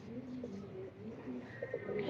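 An expensive Teddy pigeon in Pakistan coos softly close by, a low rolling call repeated several times in steady phrases, with no one speaking over it.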